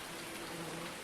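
Steady rain falling in Farming Simulator 19, a dense even hiss of drops on surfaces with a faint low hum underneath and no voices.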